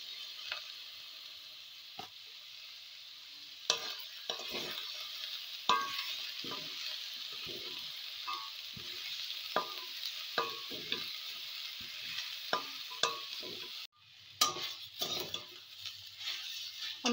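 Mixed vegetables and a handful of peas are stir-fried for Bengali-style Chinese vegetables in a pan without added oil. A steady close sizzle runs throughout under frequent scraping and clinking stirs of a spatula against the pan.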